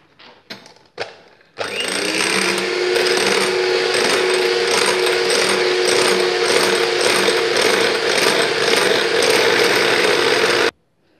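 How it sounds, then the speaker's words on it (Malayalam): An electric mixer beats chocolate muffin batter after a few short clicks, then runs with a steady loud whirring drone for about nine seconds before cutting off abruptly, close by. "എന്നിട്ട് ഇതൊന്നുകൂടെ ബീറ്റ് ചെയ്യാം."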